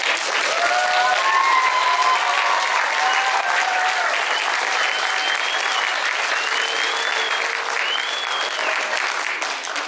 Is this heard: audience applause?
yes